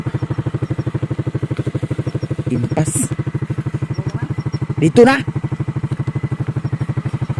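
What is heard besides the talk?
motorcycle engine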